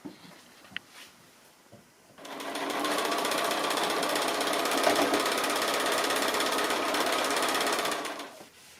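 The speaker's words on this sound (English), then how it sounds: "So I'm going to go ahead and stitch those on" Sewing machine stitching borders onto a quilt block, running in one loud steady burst after a quiet start and stopping near the end, with no talking.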